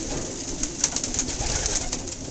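Pigeons in a loft aviary coo softly and steadily at close range over a constant hiss of background noise, with a couple of faint flutters or taps.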